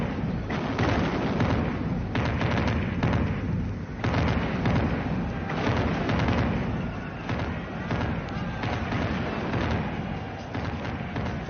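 Cannon fire in a battle, a rapid stream of heavy booms and blasts that merge into a constant loud rumble with no clear break.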